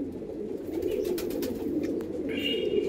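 Andhra pigeons, three pairs kept for sale, coo in a low steady murmur that runs continuously through the clip, with a faint brief higher tone near the end.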